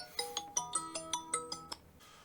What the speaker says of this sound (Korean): 이렇게 전화를 걸면 바로 이렇게 전화 수신이 되는 것을 확인을 할 수가 있습니다